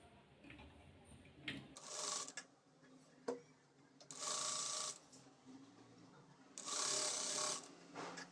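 A sewing machine stitches a folded quarter-inch fabric edge for round-neck piping. It runs in three short, close bursts of fast rattling, separated by quiet pauses filled with handling clicks.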